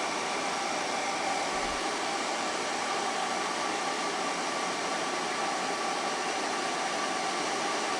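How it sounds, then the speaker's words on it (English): A hot air blower, like a heat gun, pushes a steady even hiss of air over a Ninja blender lid during a repair, continuous and unchanging for the whole stretch, with no talking. "I just have the hot air blowing on the whole area in here."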